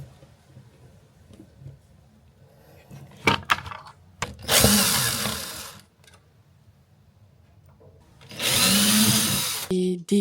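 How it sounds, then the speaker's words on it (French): A power screwdriver unscrews small screws from both sides of a wall-mounted wardrobe unit, giving two loud whirring bursts separated by quiet handling noises and a few sharp clicks. "dévisser maintenant toutes ces petites vis là des 2 côtés pour que je puisse le décoller du mur"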